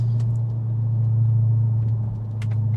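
The 4.2 V8 of a stage 1 B7 Audi RS4 Quattro drones low and steady from inside the cabin while driving, a constant deep rumble with a slight dip near the end.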